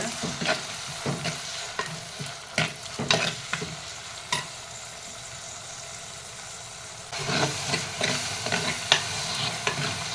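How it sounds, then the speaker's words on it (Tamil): Onions frying in a pan for a Tamil dried anchovy curry, a steady sizzle with repeated scraping stirs of a spoon, close up and busier toward the end. "வெங்காயத்தை நல்லா ஃப்ரை பண்ணிக்கோங்க"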